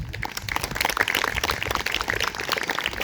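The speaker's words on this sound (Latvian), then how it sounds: "Tad aplausi Heino Tartes." A concert crowd at a folk musicians' festival in Barkava applauds Heino Tarte with dense, continuous clapping that holds at a lively, even level throughout.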